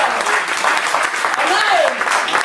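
A church congregation applauding during a lively French-language worship service, sustained clapping that swells and fades under a preacher's voice and shouted acclamations.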